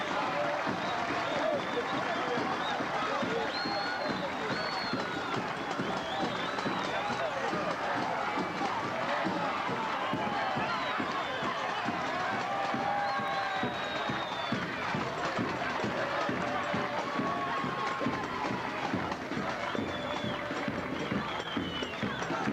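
Football fans of Grêmio Esportivo de Monte Aprazível celebrate on the field after a 1-1 equaliser. A dense, steady crowd roar of shouting and cheering fills the whole clip, with scattered voices and running feet within it.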